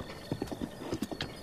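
Horse hooves clip-clopping in Zelda: Breath of the Wild, a quick run of light, evenly spaced hoofbeats at moderate distance over a soft game ambience, with no talk.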